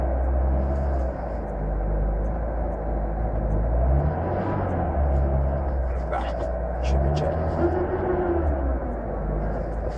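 Car engine at working temperature, running on poor fuel with the choke still on, rumbling steadily and unevenly as it pulls away in gear and fails to hold revs, under continuous talk.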